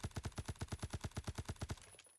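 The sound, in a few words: MC51 SD suppressed battle rifle firing in Phantom Forces video game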